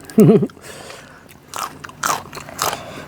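Eating sour Thai catfish soup with lemongrass and roe-filled fish: one loud close crunchy bite at the start, then softer wet chewing and slurping sounds in several brief bursts, with no talking.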